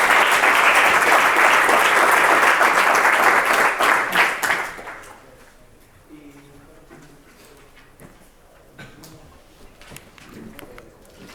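Loud, dense audience applause at a talk on physical exercise for people with cardiovascular risk, sustained for several seconds before tapering off, then a quiet room with faint murmuring and shuffling.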